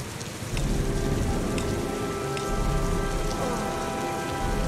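Heavy rain pours steadily in a dense, loud hiss of close raindrops striking a surface, with no voices.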